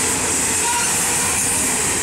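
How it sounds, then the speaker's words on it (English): Canadian National mixed freight train rolling through Effingham, Illinois, a loud, close, continuous roar of wheels and cars passing steadily with no talk over it. "This is a mixed freight train."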